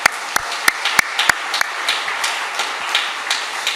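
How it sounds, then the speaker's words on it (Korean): A church congregation applauds its Sunday school teachers, with scattered sharp claps at the start and a steady wash of hand clapping continuing throughout. "칭찬받기에 마땅한 우리 교사들 다시 한번 박수하겠습니다."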